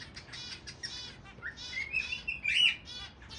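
Birds chirp and tweet in quick, bright bursts, fairly close and moderately loud, with no talking.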